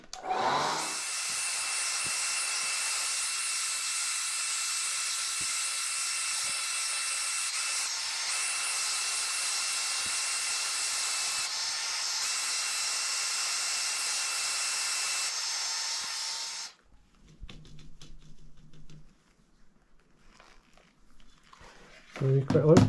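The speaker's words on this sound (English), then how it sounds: "get the hair dryer and just blow away to dry" A hair dryer blows over freshly dyed CDC feathers with a steady, loud whirring hiss for about seventeen seconds, then cuts off, leaving faint handling noises and low rumbles.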